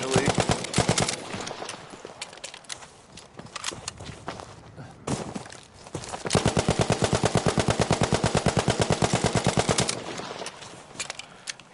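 Sustained bursts of a heavy-barrel machine gun in the video game Battlefield V, rapid evenly spaced shots in long strings with brief pauses between them, loud and close, with the player talking at times.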